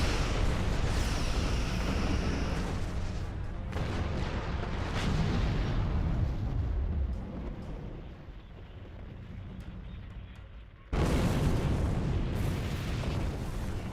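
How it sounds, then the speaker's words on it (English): Big explosion in the Star Trek Online space game, a loud sustained roaring blast that rumbles on for several seconds, dips, then surges again with a fresh burst, with no voices over it. "Luckily, I wasn't close to that because that was a pretty big explosion."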